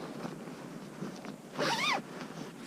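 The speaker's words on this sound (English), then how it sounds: "I'm going to unzip my CSI suit" A protective CSI suit being unzipped in one quick upward pull, a close, bright zipper rasp lasting about half a second against a quiet room.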